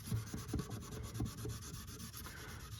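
Steady rubbing and scraping of wet sanding on a Yamaha FG acoustic guitar's finish, sandpaper lubricated with water, repeated back-and-forth strokes over a small area, close and fairly quiet, no talking.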